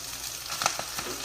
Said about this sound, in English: so we're going to saute a little spinach